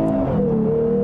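Lexus IS 350 F-Sport's engine holding a loud, smooth rev with a steady droning tone that dips slightly in pitch, heard close and alone without talk.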